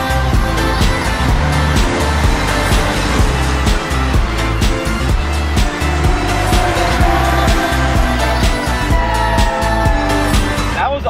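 A Ford Mustang convertible cruises on a freeway with a loud, steady drone of engine, road and wind noise that barely varies in level. A faint voice comes through now and then.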